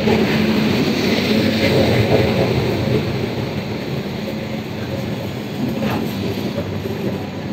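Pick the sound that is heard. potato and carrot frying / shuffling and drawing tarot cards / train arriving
train arriving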